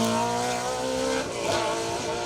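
A BMW M3 rally car blasts past on an asphalt rally stage, a loud, harsh engine roar that shifts pitch as it passes, with tyre noise underneath and no voices.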